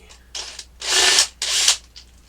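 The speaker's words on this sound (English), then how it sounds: "My drill." A power drill drives Phillips-head screws into the back of a light-up Pac-Man marquee on an Arcade1Up cabinet: a short burst, then two longer whirring runs separated by a brief pause, close and fairly loud.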